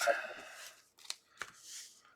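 Magic: The Gathering cards being shuffled by hand during a tabletop match, a papery riffle at first followed by a few short sharp card snaps with quiet gaps between.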